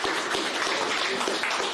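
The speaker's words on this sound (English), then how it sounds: "Let's get a round of applause for Tim and Tim." Audience applause for two speakers at a startup finance talk, a dense steady wash of many hands clapping at moderate level throughout with no clear voices.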